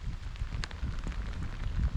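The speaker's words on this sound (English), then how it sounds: "Now the rain come in." Steady rain falling during a fishing trip on the Essequibo River in Guyana, a dense continuous patter with a few brief louder drips, heard up close with no voices.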